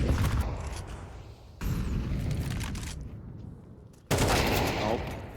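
Gunfire in Counter-Strike during a professional match, MIBR against Imperial Valkyries at PGL Cluj-Napoca 2025, heard as three loud, close, sharp-onset blasts, each decaying into a long rumbling tail, with no voices.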